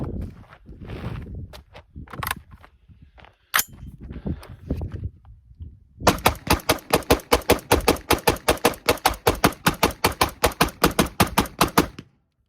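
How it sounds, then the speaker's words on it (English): A rifle fitted with a 12.5-inch Hodge-barrelled upper fires Tula ammunition in a fast, evenly spaced string of loud, close shots lasting several seconds. Quieter handling clatter and shuffling come before the shots. "we're gonna do 30 rounds of Tula with a reload and 30 rounds of Tula for a total of 60 rounds"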